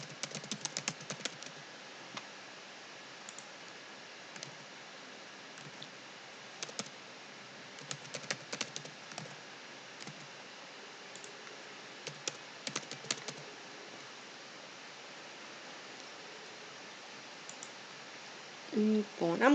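Soft, sporadic clicks of typing on a computer keyboard while filling in answer options in Google Forms, coming in short bursts with pauses between them, faint and close.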